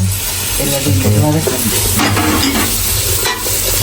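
Cut leaves are stir-fried in a hot pan, with continuous sizzling and the scrape of stirring close by, alone without talk.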